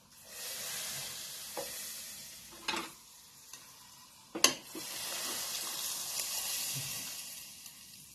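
Red chilli tempering poured into whole masoor dal, with a steady hiss of sizzling oil and a few sharp splashes and clinks near the middle, close and fairly loud.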